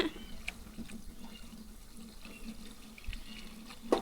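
Liquid pours into a can, giving a soft, steady trickling splash with a few small splashes and knocks, heard fairly close.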